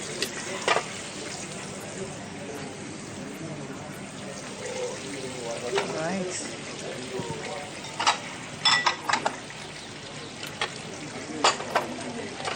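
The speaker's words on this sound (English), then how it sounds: "So I'll let them fry in a little bit." Vegetables frying in a pan on a home stove while chicken deep-fries alongside, a steady sizzle with stirring clatter and sharp scraping clicks, heard under intermittent talk.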